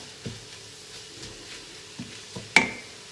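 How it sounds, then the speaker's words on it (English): Mustard being stirred into mussel soup in a pot, a few soft spoon scrapes and taps spaced out over a quiet kitchen background, ending with one sharper clink of metal against the pot. "Let's stir that in."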